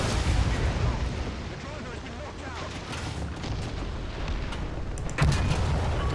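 Artillery booms and rumbling tank combat in War Thunder roll on continuously with heavy low-end blasts, a sharper burst near the end.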